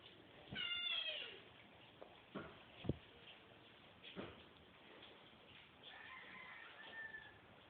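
A cat meows in a few short, faint calls, one near the start and another near the end, with quiet room noise and soft knocks in between.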